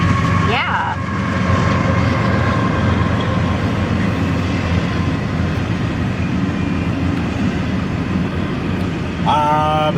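A train passes a railroad crossing near the Imperial Dunes in Winter Haven, a continuous loud rumbling roar of rolling cars, with a short horn-like tone at the start and a brief ringing burst at the end.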